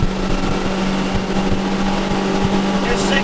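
Outboard engine on a 2004 Sea Pro 255 boat running hard at around 5,500 RPM, a loud steady drone with wind and water rush, and someone talking over it.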